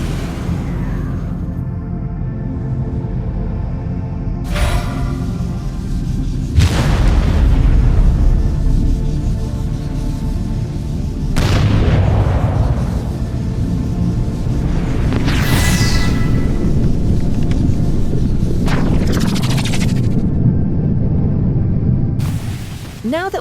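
Booming bursts and rumbling impacts mark absorbing a blue star in the superhero video game 9 Days, several loud swelling blasts over a continuous droning game soundtrack.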